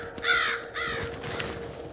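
Crows caw loudly in two harsh calls while feeding on scattered seed along a footpath beside a field, followed by quieter background calls.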